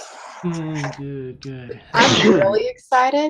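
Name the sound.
sneeze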